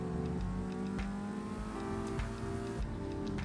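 Race car engine in Project Cars 2 career mode revving hard through gears in fourth, loud buzzing whine with quick pitch drops at shifts and rising pulls, close and continuous with no talk.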